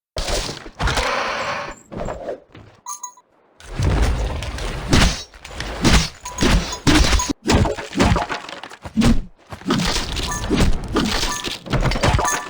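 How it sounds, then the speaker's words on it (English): Attack impacts in Volgarr the Viking II land as a series of heavy, crunching hits and shattering thuds, loud and close, separated by brief gaps with game music or effects between them. "The sound effects have also been improved, and we feel, for example, better the impact of the attacks made by the character."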